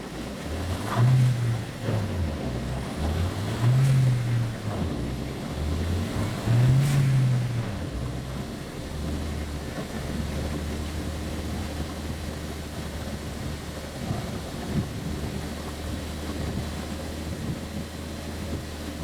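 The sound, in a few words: turbocharged car engine running on a dyno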